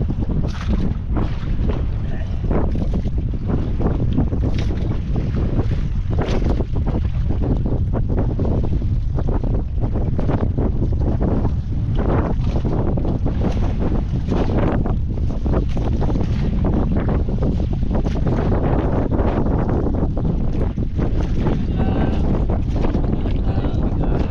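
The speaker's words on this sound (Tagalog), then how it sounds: "Grabe, hangin ay." Strong wind buffets a fishing boat at sea, a loud constant roar with gusty rumbling and microphone buffeting throughout, water sloshing beneath, and someone speaking briefly over it.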